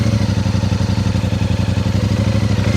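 Royal Enfield Super Meteor 650 motorcycle ridden slowly with the rear brake lightly applied, a steady close rhythmic engine thump with no talk.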